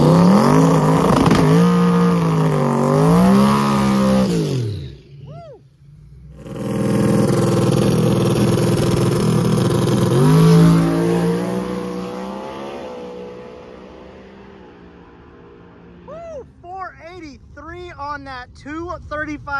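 Drag racing cars accelerate hard at a championship drag-and-drive event. Loud, rising engine tones sweep up through the gears in two long pulls, then fade and give way to quieter, revving engines in the distance. A commentator talks throughout.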